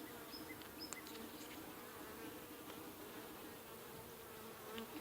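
Honey bees swarm around an open horizontal hive, filling the air with a steady, dense buzzing. Individual bees occasionally whine past close by. No one speaks.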